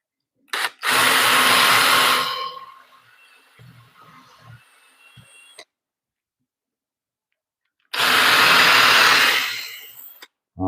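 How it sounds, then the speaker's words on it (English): A power drill bores into old-growth spruce in a woodworking shop, two loud bursts of whining motor a few seconds apart with a quieter stretch of low bumps and handling noise between them. "this spruce smells so good when I drill into it"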